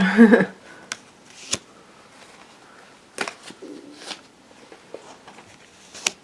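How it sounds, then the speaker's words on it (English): Soft tarot card shuffling and flicking, with scattered crisp snaps and rustles at irregular intervals, close and fairly quiet. "I'm holding the deck from behind the camera and just picking and shuffling and picking and shuffling."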